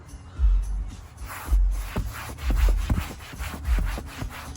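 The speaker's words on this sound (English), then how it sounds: "So I'm just gonna clean the middle part here." A microfiber cloth scrubs the dirty white seat of a Tesla interior, giving a close series of soft rhythmic rubbing swipes, roughly four or five strokes with muffled thumps, fairly quiet and with no talking.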